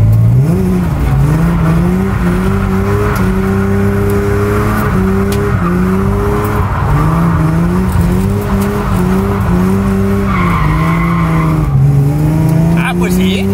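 A BMW drifts with its rear wheels sliding. Its engine drones and revs loudly and continuously, with a higher tire squeal rising near the end while people talk inside the car.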